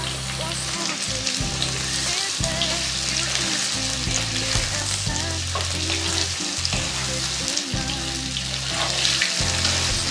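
Ginger paste fries loudly in a pan for a vegetarian vegetable curry, with a dense, continuous close sizzle and repeated stirring scrapes throughout, and no talking.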